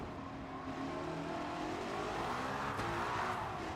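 A 1955 Mercedes Formula One race car in a racing video game, its engine droning and revving steadily at moderate volume with no pauses.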